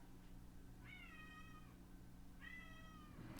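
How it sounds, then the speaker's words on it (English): A cat meows twice, each a long wavering mew separated by a pause of about a second, faint and set against a steady low hum in an indoor room, with no talking. "God damn, cat."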